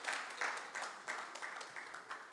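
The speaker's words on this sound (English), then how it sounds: "Let us give him a round of applause as she comes." Faint audience applause at a gala dinner, soft rhythmic clapping pulses from a distant crowd, fairly quiet and steady.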